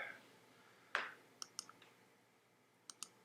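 A few sharp computer mouse clicks, one louder click near the start and a scattering of lighter clicks after it, all close and set against a quiet room.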